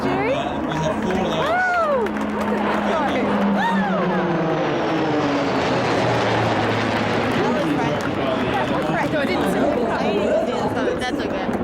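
A warbird aircraft makes a low pass at the Wanaka airshow in New Zealand, its propeller drone rising and sweeping in pitch as it passes, heard beneath close crowd chatter and people talking.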